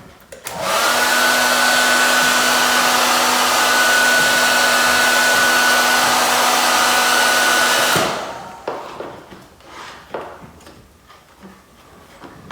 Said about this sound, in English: come back and go over kind of the whole thing again with the heat gun